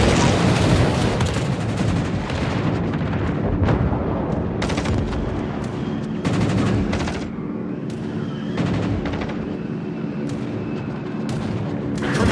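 Warship guns fire in the World of Warships naval game, a run of heavy booming salvos and sharp cracks over a constant rumble of battle. The shots are loud and close, and no voices are heard.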